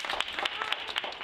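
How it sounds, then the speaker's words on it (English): An audience at a children's science week event claps for a speaker in a dense, even patter of many hands, moderately loud and continuous throughout. "So can we have a round of applause, please,"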